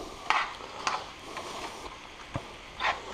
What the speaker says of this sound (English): Let's fry it up.